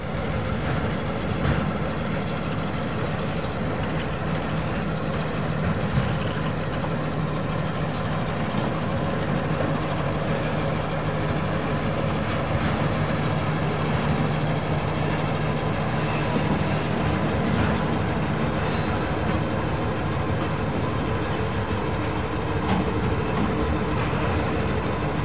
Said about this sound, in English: we set up to watch the Rock Island cross over the river in downtown